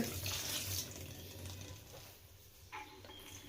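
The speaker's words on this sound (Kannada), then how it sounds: "ಈಗ ನಾನಿಲ್ಲಿ ಸ್ವಲ್ಪ ತಣ್ಣೀರನ್ನ ಹಾಕ್ಕೊಳ್ತಾ ಇದ್ದೀನಿ ಅದ್ರ ಮೇಲೆ ಈ ರೀತಿ" Cold tap water running and splashing over drained cooked noodles for veg hakka noodles in a home kitchen, a steady close rush of water that eases off toward the end, with no talking.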